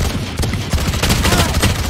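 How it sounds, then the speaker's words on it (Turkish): Rapid gunfire in the tactical shooter Valorant, a dense rattle of close shots filling the moment with a player's voice talking over it. "Yüz vurdum, ikisine de yüz vurdum."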